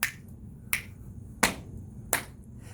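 Body percussion rhythm made by hitting the body: four sharp, close slaps or snaps spaced evenly about 0.7 seconds apart, each a crisp isolated hit over a quiet background.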